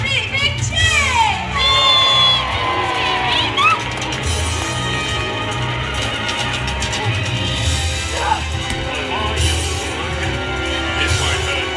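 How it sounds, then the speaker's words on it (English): Children's audience at the Johnny Thunder and the Aztec Queen show at Legoland Windsor, cheering and shouting loudly and steadily throughout, a dense crowd roar with an adult voice talking over it at times. "Come on, let's give him a really big cheer!"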